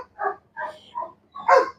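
A dog in bite work training barks loudly and close in four quick, evenly spaced barks, the last one the strongest.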